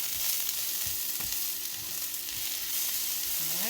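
Sweet potato leaves from the garden fry over a medium flame in a pan, a loud steady sizzle broken by several soft stirring scrapes, with a faint hum running underneath.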